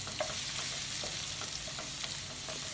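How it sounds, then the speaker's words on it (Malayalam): Finely chopped onion frying with garlic in a pan, a steady close sizzle broken by light scraping stirs, with no voices. "ചെറുതായിട്ട് അരിഞ്ഞു വെച്ചിട്ടുള്ള സവാള അതിലേക്ക് ചേർക്കുക"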